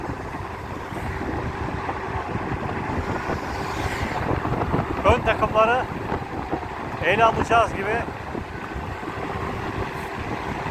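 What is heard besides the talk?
wind noise on microphone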